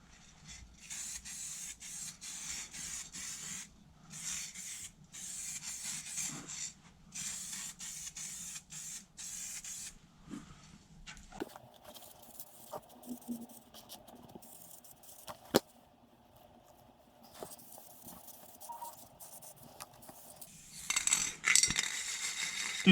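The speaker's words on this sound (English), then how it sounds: "This is actually a 3/4 empty can which I'm just going to empty off to begin with." A three-quarter-empty aerosol spray paint can lays base coat on the underside of a Classic Mini boot floor, with close, steady hissing bursts separated by short gaps, turning to a rougher sputtering hiss as the can runs dry, with no talking.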